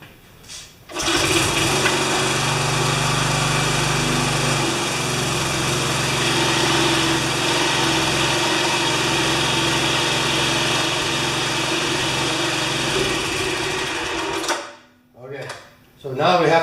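A 1973 Briggs & Stratton tiller engine starts, then runs at a steady buzzing idle for about fourteen seconds before cutting out. Close and loud, a few brief sputters follow the stop.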